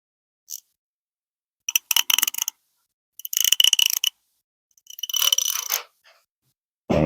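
An ICON ratchet, comparing the low-profile head with the flex head, clicks through its gear engagement: four separate bursts of fast, crisp metallic ticking, close up and loud, with silent pauses between the runs.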